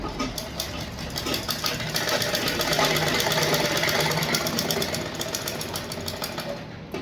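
A sewing machine stitches a lined blouse in a fast, steady mechanical rattle that stays loud and close for the whole stretch, then eases off at the end.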